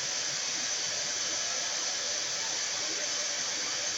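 A vacuum cleaner runs continuously with a steady, airy whirring hiss, unchanging throughout.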